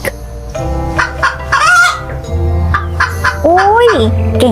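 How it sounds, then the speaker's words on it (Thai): Farm fowl calls for a children's English animal-vocabulary lesson, a run of loud, close, strained squawks and gobbling cries with rising and falling pitch over a low steady hum, no voices in between. "อุ้ยเก่งมากเลยค่ะไก่ chicken"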